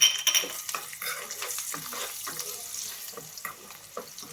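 Crushed garlic dropped into a hot pan for tamarind pachi pulusu, giving a soft crackling sizzle with scattered stirring scrapes and light clatter, fairly quiet and fading slightly over a few seconds.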